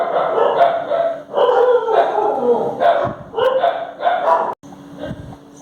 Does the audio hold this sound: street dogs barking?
yes